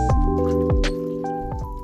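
A soaked crocheted wool dress squishes wetly in a basin of no-rinse eucalyptus wool wash, with several close, soft squelching presses and drips in quick succession.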